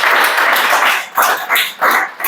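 A class of students claps loudly in a room, in several strong bursts of clapping that rise and fall over about two seconds.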